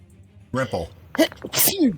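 A player in a live tabletop role-playing session lets out a sudden, close sneeze among several short bursts of nearby voices and talk.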